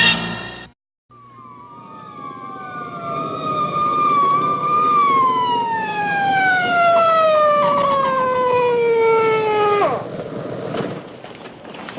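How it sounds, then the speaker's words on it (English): A vehicle siren whines loudly and close, rising then sweeping slowly downward in a long wail over steady rumbling street noise, cutting off near the end. "Sirens scare the hell out of me. Yours has been whining at me for 3 blocks."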